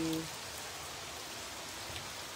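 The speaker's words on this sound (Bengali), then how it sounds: "ঝপঝপ বৃষ্টি, সত্যি অপূর্ব সৃষ্টি আল্লাহ।" Heavy rain falls as a steady, even wash of hissing patter, fairly faint and distant, with a brief tone at the very start.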